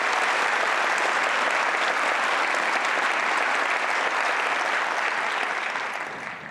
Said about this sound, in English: So round of applause for those postdocs.